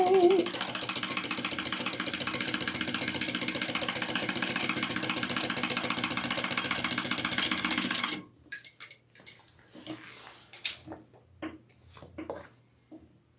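A sewing machine stitches the layers of a shoulder bag with a fast, steady mechanical chatter for about eight seconds, then stops, leaving soft handling clicks and rustles.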